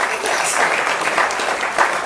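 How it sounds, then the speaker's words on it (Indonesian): An audience at a religious gathering for Isra Mi'raj claps together, a short dense wash of applause that holds at an even level throughout. "Silakan tepuk tangan."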